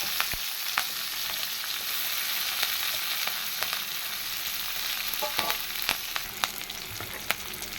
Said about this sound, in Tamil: அதில் வெங்காயமும் கருவேப்பிலையும் போட்டு